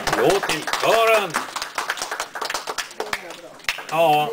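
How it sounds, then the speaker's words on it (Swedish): An audience claps for a choir at a care-home music session, with scattered, steady clapping running beneath a voice speaking and singing throughout. "Ja, en applåd till kören."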